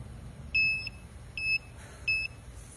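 A security metal detector beeps three times in a row, each tone short, sharp and electronic, with short gaps between them over a low background hum.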